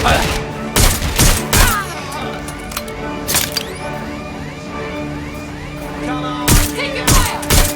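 Rapid bursts of gunfire from a Watch Dogs Legion firefight, several loud volleys cracking out in clusters with quieter shots and clatter between them, while voices shout over the action.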